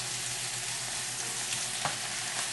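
Steady, close sizzling of steak and vegetables frying in a hot pan, a continuous crackling hiss with a faint clink partway through.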